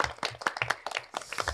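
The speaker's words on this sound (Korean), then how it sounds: "첫 번째로 발표해 주신 우리 1부님에게 여러분 박수 주시기 바라겠습니다" An audience claps for the first presenter at a labor-rights education session in Incheon, with a brief scattering of uneven, close claps and little crowd wash.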